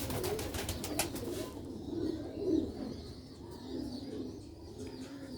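Sialkoti pearl pigeons cooing at close range, soft repeated low coos rising and falling over a few seconds, with a brief burst of chirping and rustle at the start.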